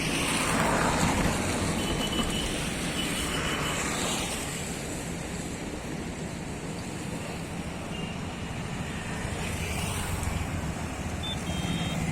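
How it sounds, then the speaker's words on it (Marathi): Continuous roar of road traffic rushing past on a bridge in Nanded, a dense broadband rumble that swells and eases as vehicles pass. "पुलावर उभी असल्यामुळे ट्रॅफिक जात आहे त्यामुळे ट्रॅफिकचा आवाज भरपूर येत असेल"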